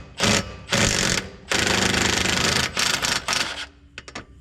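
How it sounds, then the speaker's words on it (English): A Milwaukee impact wrench hammers on transmission bolts of a Chevy 1500 with a 4L60 transmission, firing in several loud, rattling bursts of varying length, close up with no talk. "Every bolt fears their life when they hear that sound. It's the sound of a Milwaukee."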